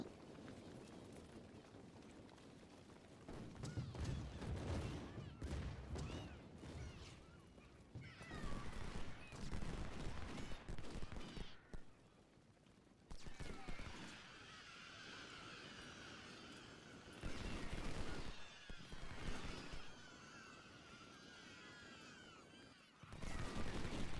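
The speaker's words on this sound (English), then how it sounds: "So that was a combination of artillery and then the skirmishers together." Artillery blasts and skirmisher musket volleys from a Civil War battle at Thoroughfare Gap in the game Ultimate General: Civil War, heard as loud, dense bursts of gunfire with brief lulls between them and no talking.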